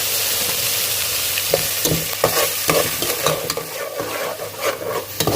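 A spiced masala with turmeric, coriander powder and black cumin fries in a pan for mutton paya, giving a constant close sizzle with frequent scraping and clinking stirs. No one speaks.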